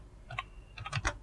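Keys clatter on a computer keyboard as a command to reset a MikroTik User Manager password is typed, in two close clusters of quick keystrokes separated by a short pause.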